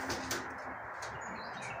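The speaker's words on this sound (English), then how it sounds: "He is out flying with the other birds." A racing pigeon flies among other birds outdoors, wingbeats and faint bird calls carrying steadily at a moderate distance with no talking.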